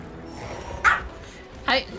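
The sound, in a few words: dog named Coffee barking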